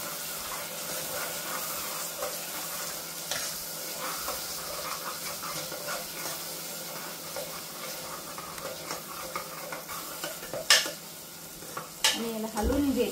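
Grated coconut and cardamom masala sizzles in a pan for chicken curry, a quiet steady hiss with gentle repeated stirring scrapes and a few louder utensil knocks toward the end.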